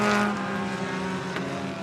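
Street stock race cars roar down the front stretch at Coos Bay Speedway, a loud, steady engine drone with a slight swell at the start and no voices.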